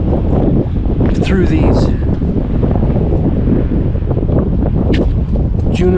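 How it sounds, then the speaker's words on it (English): Strong wind gusts roar steadily through stiff-bristled junipers and pinyon pines along a desert rim drive, a constant loud buffeting with someone talking over it. "The wind really picked up."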